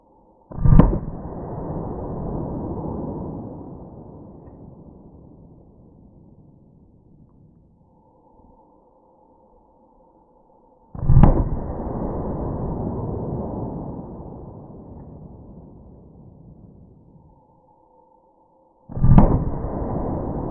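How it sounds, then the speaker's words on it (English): Three loud .44 Magnum revolver shots into a ballistic gel block, each a sharp, close crack followed by a long decaying echo, spaced roughly ten and eight seconds apart with near silence between. "I'm gonna hit it one more time with our 44 Magnum, a little bit more centered, and see if we can catch this bullet"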